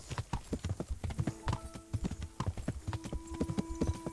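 Horse hooves clip-clopping in the medieval role-playing game Kingdom Come: Deliverance, a quick steady four-beat trot of sharp knocks on hard ground, close and prominent, with a low background tone.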